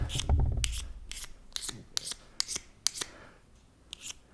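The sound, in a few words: scraping protective coating off a lighter's striker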